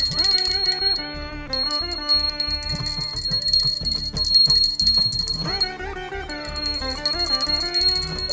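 A bright metallic bell rings repeatedly over steady music, its tones sustained and loud, with a short pause midway before ringing resumes.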